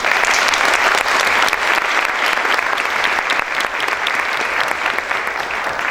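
Audience at a university architecture faculty talk applauding, a dense, sustained round of clapping from a full room that holds steady for several seconds.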